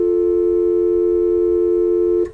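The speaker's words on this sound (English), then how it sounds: "So I got a dial tone here," A telephone dial tone synthesized on a Novation Bass Station II, two sine waves mixed into one steady, loud, unbroken tone that holds without change, then cuts off abruptly at the end.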